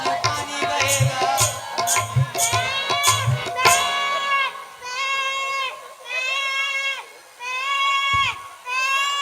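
A goat bleats repeatedly in a stage play, loud drawn-out wavering calls, with shorter overlapping cries and crowd noise at the start.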